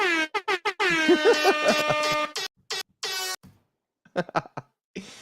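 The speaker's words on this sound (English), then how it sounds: "You heard my air horn?" A loud, blaring air horn sounds in a few short blasts, then one long sustained honk, followed by a couple of quieter, broken bursts.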